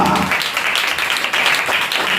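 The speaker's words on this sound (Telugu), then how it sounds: "చప్పట్లు కొట్టండి గట్టిగా." A church meeting audience claps loudly in a dense, sustained burst of applause that fills the whole short moment.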